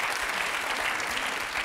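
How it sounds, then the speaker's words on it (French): Steady, dense applause from a TV game show studio audience, a continuous wash of many hands clapping at even loudness with no talk over it. "Le public applaudit."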